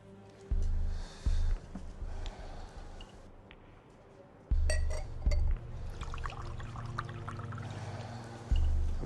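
Water pours from a container into a drinking glass in a few separate bursts, each a short close gurgling fill, with a light clink in between.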